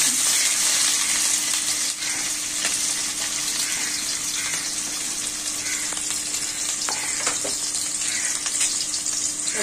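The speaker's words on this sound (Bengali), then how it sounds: "এখন আমি পেঁয়াজটি ভেজে নেব।" Onions frying in hot oil in a wok, a loud, continuous hissing sizzle with faint stirring clicks, close and steady with no talking.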